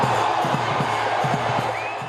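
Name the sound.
enthusiastic crowd cheering at Kudos Bank Arena, Sydney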